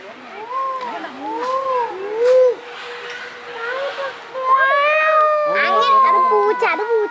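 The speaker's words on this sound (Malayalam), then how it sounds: "പൂച്ച, അത് പൂച്ച," A cat meows repeatedly and loudly at close range in a zoo during a trip, with several drawn-out, rising and falling calls that grow more insistent toward the end.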